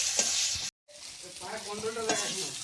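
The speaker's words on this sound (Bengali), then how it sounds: "এইবার আমি চালদাটা মানে 2 মিনিট মতো একটু ভেজে নেব" Chopped chaldah (elephant apple) frying in a pan with turmeric, giving a steady close sizzle with scraping stirs and a brief silent break, while a voice talks faintly over part of it.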